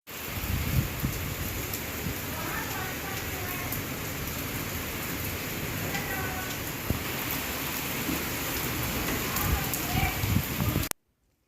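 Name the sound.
heavy rain with strong wind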